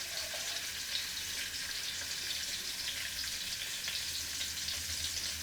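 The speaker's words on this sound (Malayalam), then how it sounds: "കൊച്ചുള്ളി മുരിയട്ടെ." Small shallots frying in a pan give a steady, dense close sizzle that hisses evenly throughout with a faint low hum underneath and no speech.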